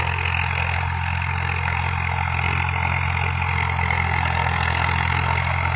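A tractor engine runs steadily in a farm field in Gyanpura village, Hisar, a constant loud low idling drone with no talk over it.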